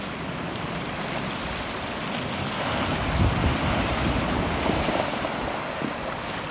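Ocean waves wash against a rocky shore beside a tide pool at high tide. A continuous loud roar of surf mixes with wind buffeting the microphone, with no talking.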